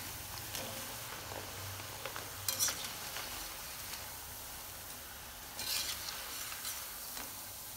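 Moong dal pakoda fry in hot oil with a steady, soft crackling sizzle, close up, and a couple of brief louder scraping stirs.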